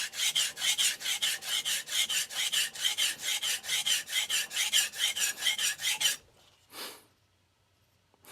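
A Nakamura Hamono knife is sharpened on a hard Morihei Hishiboshi 1000 grit whetstone, with close, loud rhythmic rasping strokes, about three per second for six seconds, then a single stroke after a pause.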